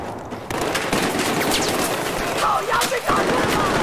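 Gunfire rattles in Battlefield 4 Beta Domination gameplay. Bursts of automatic fire and sharp shots sound over game noise, while a player talks over the action.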